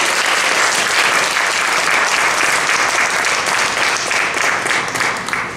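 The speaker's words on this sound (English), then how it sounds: "Let's give a round of applause for our speakers." Applause for the speakers at the close of a healthcare conversation session, a loud, full, continuous sound of many people clapping that tapers slightly near the end.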